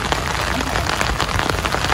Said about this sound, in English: Loves the rain.